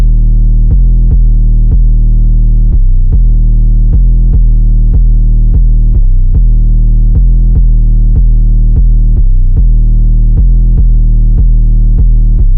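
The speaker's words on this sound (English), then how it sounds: "here's what the 808 pattern sounds like." A booming 808 bass drum pattern in a beat, deep sustained hits repeating in a steady, syncopated rhythm, loud and alone.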